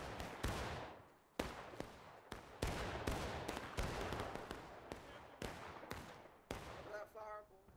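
Musket fire from Civil War-era lines in War of Rights, Maryland Heights: a ragged volley of sharp, cracking shots, about a dozen spread irregularly over several seconds, some close and loud, others farther off.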